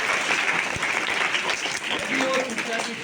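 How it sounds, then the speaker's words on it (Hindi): Loud clapping from students at a school motivational speech, a thick continuous burst of applause with voices mixed in throughout. "बहुत जोरदार ताली बजा।"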